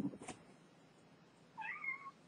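A cat gives a single drawn-out, wavering meow, fairly faint and somewhat distant, after a brief soft thump in an otherwise quiet room.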